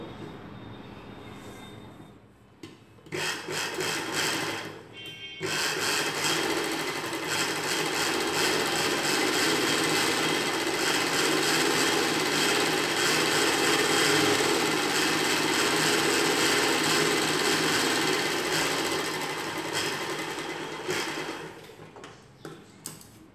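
An electric sewing machine stitches a folded hem on a girl's night dress, a loud, close, continuous motor whir that starts and stops twice in short bursts before settling into one long unbroken run.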